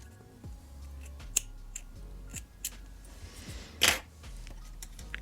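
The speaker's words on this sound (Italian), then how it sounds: "taglio il filo" Scissors cut through crochet yarn in a couple of crisp, close snips, the sharpest one near the end, set against quiet room background with no talking.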